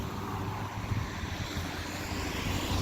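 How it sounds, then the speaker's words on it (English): Floodwater gushes steadily out of street sewers during the 2019 Montreal river flood, a continuous loud rushing and churning wash with no pauses and no voices. "the sewer is just going to keep pumping out more and more water onto the street"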